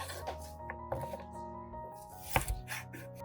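A knife chops carrots into long sticks on a cutting board, making a series of sharp, close knocks at an irregular pace with brief pauses between cuts.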